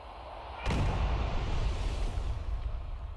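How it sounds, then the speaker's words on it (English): An explosion in the mobile shooter game Sniper Fury: a sudden sharp blast hits, then a deep, rumbling roar of debris and fire rolls on for a few seconds before slowly easing, with no voices. "Boom! Explosion!"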